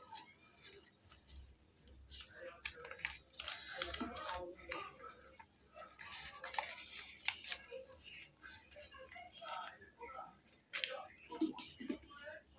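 A sheet of paper being folded into a paper airplane: repeated crisp rustles, creases and crackles come close up in irregular bursts, with occasional voice in the background.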